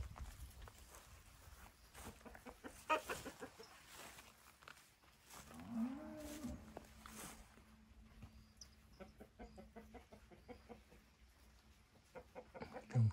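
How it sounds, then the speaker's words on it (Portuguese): Chickens and a rooster cluck and call on a farm with banana trees, mixed with cattle mooing and a calf nearby; the animal sounds come and go at moderate distance over a faint outdoor background. "Tem várias galinhas, aqui tem um galo muito bonito"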